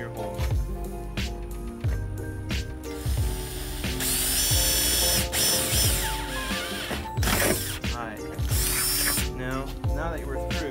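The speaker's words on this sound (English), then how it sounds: "I'm just using a 3/16" drill bit," Power drill with a 3/16 inch bit boring a pilot hole for hood pins on an S10 truck, whining in repeated bursts that rise into a sustained high-pitched grind.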